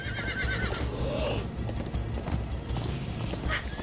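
A horse whinnies in Minecraft: Story Mode with a rising, drawn-out neigh over steady game background noise and hoofbeat clatter, loud and close.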